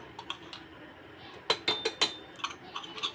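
Metal utensils clink sharply against a pot while hot tadka tempering is stirred into warm dal for Satara-Wai style ghevda amti, a cluster of bright clanks and scrapes over a quiet kitchen background.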